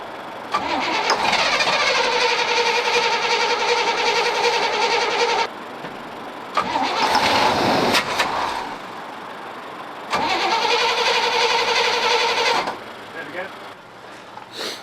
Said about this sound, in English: It's running, sort of. It cranked, it spun.